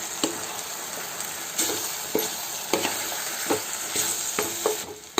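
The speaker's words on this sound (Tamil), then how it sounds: "மிளகாத்தூளோட கொஞ்சம் நேரம் எண்ணெயில் வதங்கட்டும்" Chili powder frying in hot oil for a spicy chicken dish, a steady close sizzle punctuated by repeated scraping stirs of a spoon against the pan, with no talking.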